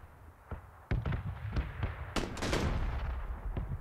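Gunfire in a sniper video game: a rapid, irregular volley of sharp, loud shots and cracks, clustered over a few seconds above a steady rumbling background din, with no voices.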